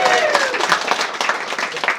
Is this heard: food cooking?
no